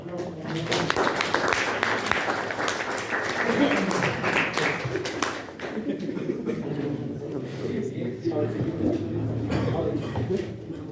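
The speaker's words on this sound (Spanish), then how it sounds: "Muy bien, aplausos." Audience applause after a class presentation, a spread of clapping hands in the first half that fades as chatter and voices take over later.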